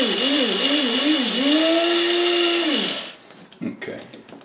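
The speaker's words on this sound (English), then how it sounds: "this is just an inexpensive coffee grinder you can pick up anywhere for not too much money" An inexpensive coffee grinder whirs loudly as it grinds shellac flakes, its motor pitch wavering then holding steady before it spins down and stops, followed by a few faint rattles.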